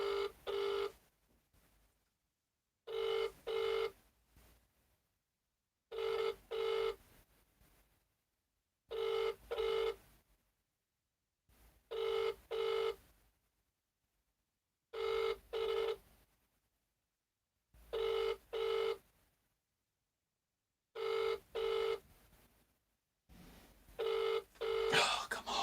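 A telephone rings repeatedly while a call is being transferred: about nine evenly spaced double-burst rings, each separated by silence, clear and fairly close.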